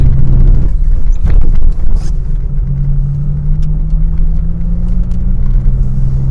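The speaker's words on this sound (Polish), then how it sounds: "Nawet ten wydech fajnie brzmi." Inside a moving Fiat Cinquecento 900, the exhaust rumbles loudly and steadily while the small car thumps over short bumps, the engine note holding a low droning tone.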